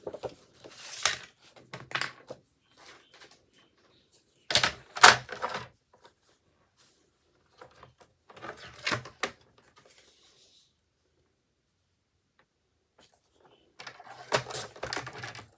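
Paper being cut for a handmade children's card, with scissors snipping in short bursts separated by pauses, close and clear.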